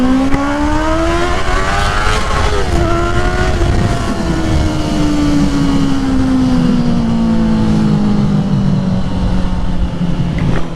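Honda CBR 650R motorcycle fitted with a new full exhaust revs loudly and close: a droning engine note climbs, dips, then slowly falls and settles for about eleven seconds, with no talking.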